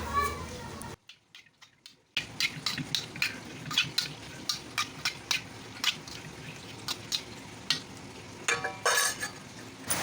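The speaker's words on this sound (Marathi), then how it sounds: "इथं मी आप्पे पात्राला तेल लावून घेतलेलं आहे आणि एक एक करून आप्पे जे आहेत ते आपले टाकून घेतलेले आहेत" Appe batter fries in an oiled appe pan, a soft sizzle broken by a short silence and then repeated sharp clinks and bursts, with some talk underneath.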